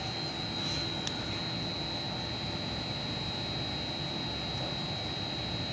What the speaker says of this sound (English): We have our pump on our plate heat exchanger running.